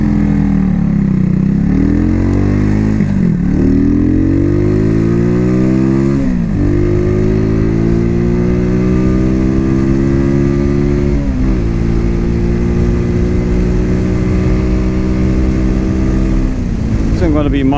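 On a test ride, a Cougar Vitacci XMT 250 motorcycle engine rises and falls through repeated rev sweeps as it shifts through gears, loud and close throughout with a continuous buzzing drone.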